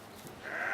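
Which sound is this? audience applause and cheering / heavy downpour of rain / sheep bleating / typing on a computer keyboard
sheep bleating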